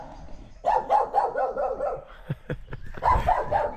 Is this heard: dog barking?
yes